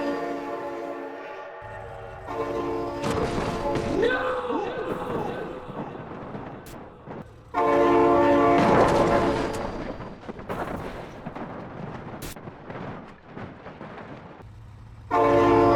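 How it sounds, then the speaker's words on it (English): A passing train sounds its horn in loud, sustained harmonic blasts, with a rumbling rush of rail cars between them, while excited voices cry out over the noise. "Oh my god, train!"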